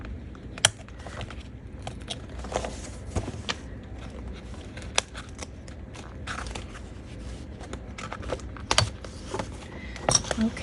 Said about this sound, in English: going to take an X-Acto knife and I'm going to come up under and cut the threads